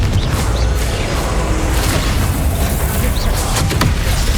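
Confringo fire spell blasts in Hogwarts Legacy combat, with dense booming impacts and crackling bursts over continuous game sound, including sharper hits near the end.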